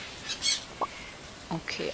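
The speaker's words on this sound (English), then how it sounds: "There's the gem bird." In the video game Stardew Valley the gem bird gives a few short chirps and squawks, scattered and fairly close, with brief low vocal sounds between them.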